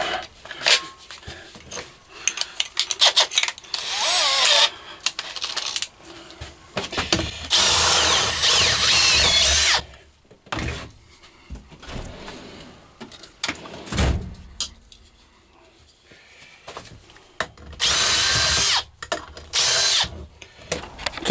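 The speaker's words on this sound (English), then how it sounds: "That is a drill." A cordless drill whirs in several loud bursts during boat trailer repair, starting and stopping with short pauses and some mechanical clatter between runs.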